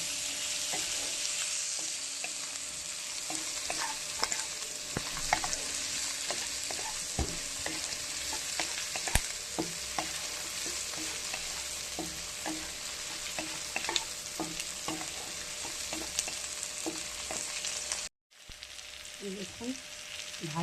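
Food fries in a pan under constant stirring, with a close steady sizzle dotted by frequent spatula scrapes and taps against the pan and a brief cut near the end.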